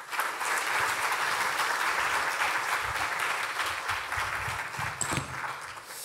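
Sustained applause from an audience at a church heresy seminar hosted by the Gyeongbuk presbytery at Buksam Church. It is a dense, steady clapping roar that fills the room for the whole stretch, with no voice over it.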